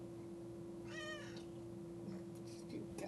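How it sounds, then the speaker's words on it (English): A cat meows loudly in a short, rising then falling call close to the microphone, heard over a steady electrical hum and faint background noise in a room. "Your cat is so loud."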